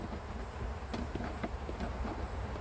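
Honey bees buzz around hives during a honey harvest, a steady close droning hum with a few brief louder passes as individual bees fly near.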